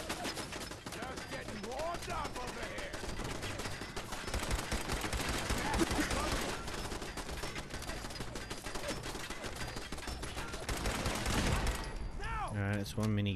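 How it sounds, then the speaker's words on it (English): A minigun turret in Fallout 4 fires continuously, a dense, loud, rapid rattle sustained for over ten seconds before a voice speaks briefly at the end. "It's one minigun turret."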